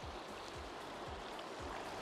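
A rocky stream tumbles over stones in a steady, dense rushing wash with faint rhythmic lapping pulses, moderately close and heard alone without talk.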